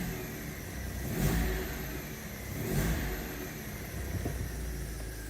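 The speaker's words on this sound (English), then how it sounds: "See if I rev it up if it comes back again." A Suzuki car engine with a check-engine fault revved twice, each rise swelling and falling back to a steady idle, close and fairly loud with no talking.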